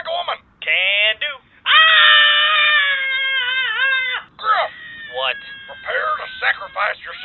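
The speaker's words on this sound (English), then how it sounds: "Scream like a woman!" A man shrieking in a high falsetto like a woman, several long, loud, wavering screams close up, with short breaks and choppier yelps toward the end.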